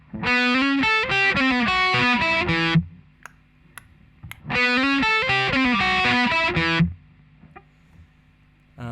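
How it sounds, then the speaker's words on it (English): Electric guitar with distortion plays the short lead line from the verse of a song twice, quick bright note runs up close, with quiet gaps holding faint clicks between them. "a short lead line that sort of comes in over the verse"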